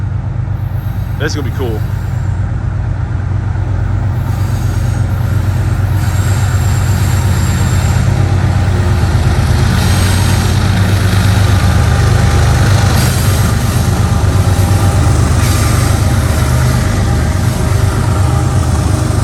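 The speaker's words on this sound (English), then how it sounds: "Those locomotives were loud." A CSX freight train hauled by three locomotives rumbles past close by on a 100-year-old bridge, making a loud continuous roar with a brief squeal early on and clattering wheels throughout, while someone speaks briefly over it.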